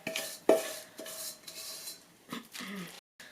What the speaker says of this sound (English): Everything's mixed together. So we're just going to dump this right in.